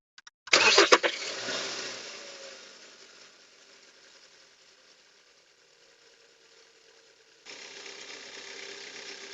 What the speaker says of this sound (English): we can start the engine and take a look at this